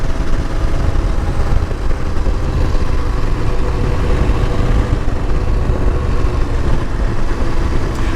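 A CFMOTO 800 MT-X motorcycle on the move, its engine giving a loud, steady, close drone with road rumble throughout and no voices.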